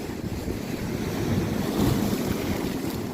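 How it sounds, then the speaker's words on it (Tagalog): Strong sea waves slap and wash against a small boat in a continuous loud roar, with heavy wind buffeting the microphone and no voices. "may malakas yung alon, tigay pahataw-hataw"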